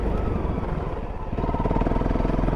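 A motorcycle ridden on the road with ABS switched on, its engine running steadily and loud up close, then shifting to a rougher, pulsing tone partway through as the rider brakes hard.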